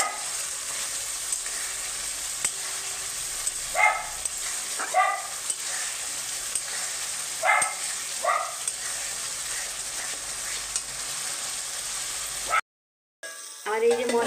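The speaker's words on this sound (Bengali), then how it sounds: "এখন সব মশলাটাকে একদম ভালো করে ভেজে নেব।" Spice masala with Kashmiri chilli powder fries in hot oil for a Deshi chicken curry, giving a steady close sizzle with a few brief stirring scrapes, then a sudden short cut near the end.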